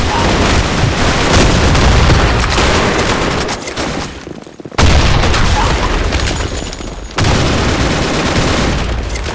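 Loud, dense blasts and rolling booms from a thrown grenade or charge going off, with sustained roaring bursts filling the whole clip and two sharp renewed onsets partway through.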